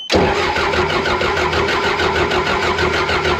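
Engine of a John Deere military dozer, damaged by foreign objects, cranking over continuously for several seconds: a loud, steady, rhythmic chugging and whirring that starts abruptly and holds at full level throughout.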